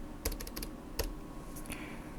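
Keyboard shortcut Ctrl Alt Shift N pressed on a Windows computer while working in Photoshop: two clusters of sharp, close key clicks, a quick run of several taps followed by a couple more presses, with no talking over them.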